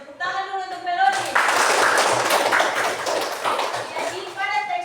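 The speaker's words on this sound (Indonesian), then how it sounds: "Tepuk tangan dulu untuk Melody." A classroom of students applauds a classmate with a sustained burst of clapping lasting about three seconds, with a voice talking just before and just after it.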